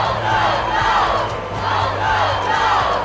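An animated crowd cheers loudly and continuously in rolling waves of massed voices, with no single speaker standing out.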